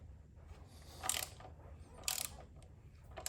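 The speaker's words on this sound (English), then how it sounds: "I'm gonna get the rear set loose." A hand tool loosening the rear set on a motorcycle: a few quiet ratcheting clicks in short bursts, close and faint against low background hum.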